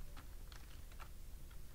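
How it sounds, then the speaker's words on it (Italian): Keys pressed on a computer keyboard while playing the Commodore 64 game Street Hawk, a handful of quiet, irregular clicks over a low background hum, close but faint, with no voices. "Devo trovare i tasti sulla tastiera"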